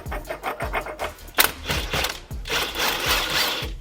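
Rhythmic metallic ratcheting and scraping close up while a pulley bolt is worked loose on a Ferrari engine, in repeated short strokes with a louder clank midway, then a steadier grinding rasp; no talk.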